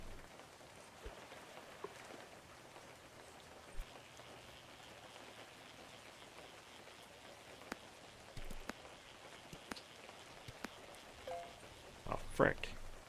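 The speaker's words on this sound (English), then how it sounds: "It's raining. Oh, we gotta fish in the rain." Steady rain falls in the fishing game Webfishing, a soft even hiss with scattered drop ticks throughout and a few louder clicks near the end, under faint background sound.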